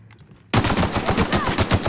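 Gunfire in The Outer Worlds on PC, a loud, dense burst of rapid shots that cuts in suddenly after a quiet start and keeps going without a break.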